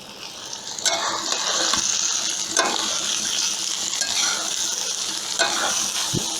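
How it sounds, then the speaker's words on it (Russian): Carrots and beef frying together in a kazan for plov, a steady close sizzle with occasional scraping and clinking strokes of a utensil as everything is stirred. "Я начинаю все перемешивать."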